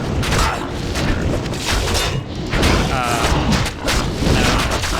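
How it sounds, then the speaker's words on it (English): Monster explosions in Diablo 2 burst as dense, loud booming thuds that run almost continuously through the scene, layered over busy game effects. "That will make them explode."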